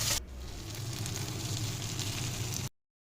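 Chopped carrot, onion, garlic and green chilli fry in white oil in a wok, giving a steady, close, dense sizzle that runs evenly and then cuts off abruptly.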